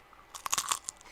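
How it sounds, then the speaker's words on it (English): Lay's classic potato chips crunch close up in a quick cluster of four or five sharp, crisp bites within about a second. "I'm going to get a nice crunch."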